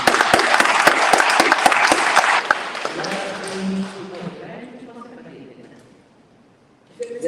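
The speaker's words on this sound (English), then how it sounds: "Give yourself a great round of applause." Audience applause at a ministers' coalition networking meeting, dense and loud for about three seconds, then thinning to scattered claps and fading out, with some voices mixed in.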